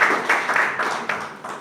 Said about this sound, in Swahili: Naomba tuwapigie makofi wale waliosaidia.